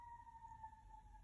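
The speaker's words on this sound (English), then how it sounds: "Oh, sorry for the sirens again." An emergency siren sounds outside, very faint and distant, a thin steady wail holding throughout the brief moment with nothing else over it.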